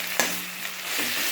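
Mustard seeds splutter in hot oil, a steady sizzle with a few sharp pops and crackles, close and fairly loud; no talking.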